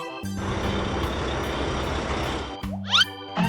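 A toy crane truck and dump truck move about a construction play scene, with a sustained engine rumble followed by steady electronic reversing beeps and a brief whine near the end.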